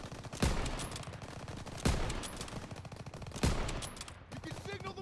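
Rapid gunfire in the World War II shooter Call of Duty WWII rattles in sustained bursts, with three sharp, heavier shots punctuating the clatter at roughly regular intervals.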